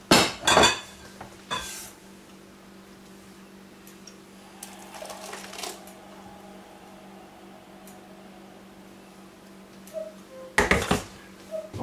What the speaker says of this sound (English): So I'll get out my mixing bowl